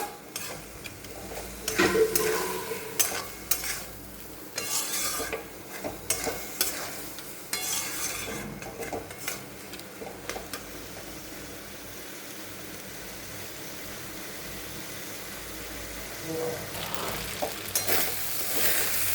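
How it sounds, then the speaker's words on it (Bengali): Rice being stir-fried with turmeric and spices in a pan for fish-head khichuri, a steady close sizzle with scraping stirs and occasional utensil knocks throughout. "চালটা মশলা দিয়ে ভালো করে ভাজা হয়ে গেছে"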